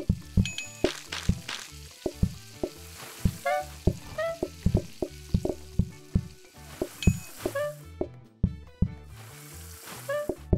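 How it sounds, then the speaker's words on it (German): Fries sizzle in a fryer in the video game PlateUp, a continuous frying hiss broken by rhythmic clinks, dings and short chimes from the kitchen, with no talking. "Dann kocht er Pommes."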